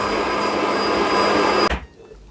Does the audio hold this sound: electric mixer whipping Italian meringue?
yes